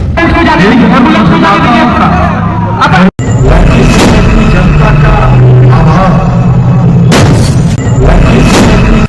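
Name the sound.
celebratory gunfire at political event in Bihar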